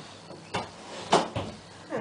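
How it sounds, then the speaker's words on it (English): A door is pushed shut indoors, giving a few soft, close thuds and knocks spread over about two seconds against a quiet room. "I'm gonna put this down a second and just close the door in here."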